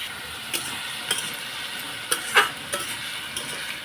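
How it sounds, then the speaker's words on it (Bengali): Cut ash gourd and potato frying in a pan, giving a faint, steady sizzle with occasional soft spoon scrapes and clinks, no voices. "সবজিগুলো একটু ভাজা হোক"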